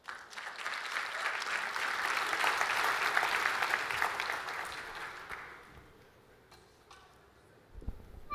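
Audience applause welcomes a singer and a guitarist to the stage for a 2016 closing performance in China, a broad, steady ovation that swells, then thins and fades toward the end.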